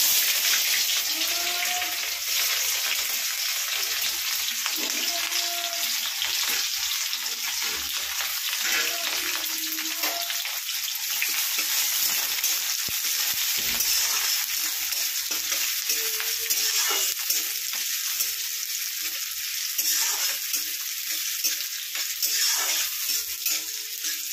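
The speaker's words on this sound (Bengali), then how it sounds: "তো পেঁয়াজটাকে এভাবে হালকা করে নেড়ে চেড়ে নেব, একটু ভাজা" Sliced onions fry in hot oil with cloves, cardamom, cinnamon and bay leaf, hissing in a constant close sizzle broken by repeated scraping and clinking strokes as they are stirred in the pan.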